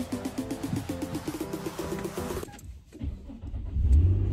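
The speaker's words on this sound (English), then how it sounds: "We have a new car." A car starts and pulls away near a shopping mall, with a steady engine rumble and low driving noise after an earlier stretch of rhythmic sound, loud and close with no talk.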